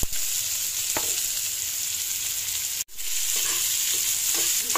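Steady hiss of oil heating in a frying pan while something is browned before small hilsa fish go in, with a few faint stirring scrapes and one brief gap near the end.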